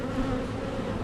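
Honeybees hum steadily around hive frames during a late-May beekeeping inspection, a continuous close drone holding level for the whole second with no voices.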